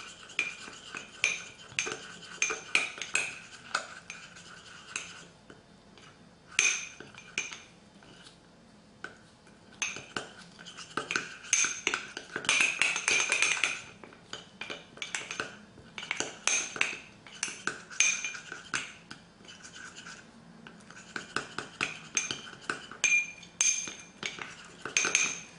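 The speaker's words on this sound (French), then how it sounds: "De la même façon, je l'étale un peu et je mélange." A small utensil clinks and scrapes in bursts against a hard dish or palette while gold lip gloss is spread and mixed, with quick tapping strokes and brief pauses and no talk.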